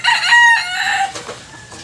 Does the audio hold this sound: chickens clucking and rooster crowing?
yes